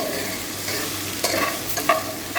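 A spatula stirs chopped ivy gourd (kovakka) frying in a stone pan, a steady sizzle broken by a few sharp scraping strokes against the pan, close and without talk.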